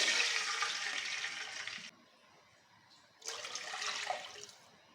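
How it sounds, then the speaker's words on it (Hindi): Two cups of water poured into a pan while making aloo suji snacks, in two separate gushing bursts with a short quiet gap between them, close and fairly loud. "चलिए अब हम 2 प्याली पानी की ऐड करेंगे"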